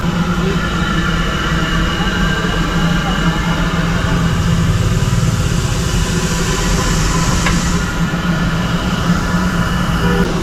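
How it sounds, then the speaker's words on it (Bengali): A coal-powered Darjeeling toy train at Ghum station, the highest railway station in India, gives a steady close rumble and hum of engine and rail noise with a brief sharp clank near the end, under a busy ambient background. "কয়লায় চলা সেই আমাদের সেই পুরনো দিনের টয় ট্রেন, যেটি এই মুহূর্তে একদম সামনে রয়েছে"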